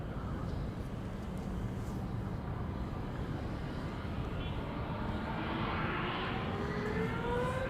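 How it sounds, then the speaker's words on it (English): EasyJet Airbus A320neo beginning its takeoff at Amsterdam Schiphol, a fairly soft, steady engine rumble with a rising whine emerging toward the end as the engines spool up. "it is time for EasyJet flight 22162 to Person-Chester to take off. A320neo."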